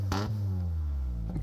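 A race car engine revs with low, steady harmonic drone and a sharp blip near the start, loud and close, with no talk over it.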